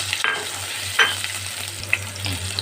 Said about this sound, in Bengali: এই ডুমো ডুমো করে কেটে রেখেছি যে আলুগুলো সেগুলো আমি দিয়ে দেব সেগুলো আমি একটু লাল করে ভেজে নেব